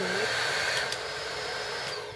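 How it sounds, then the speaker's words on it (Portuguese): A basic but powerful Chi hair dryer runs with a steady loud whooshing roar, close by, with a faint whine and a slight drop in level partway through. "esse aqui, ele é bem basicão, é um secador bem básico, mas ele é bem potente"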